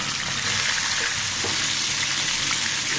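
Vegetables for a hilsa fish and green banana curry fry in hot oil, making a dense, even hiss of sizzling that carries on steadily and fairly loud throughout.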